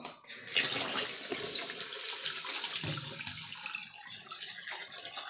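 Tap water running steadily into a sink over cut potatoes being washed for a potato curry, a continuous close splashing hiss with small clatters from handling, and no talking.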